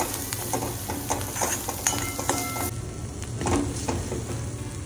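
Masala paste fries in a pan for a prawn curry with a dense, continuous crackling sizzle and scattered stirring scrapes, close and fairly loud throughout.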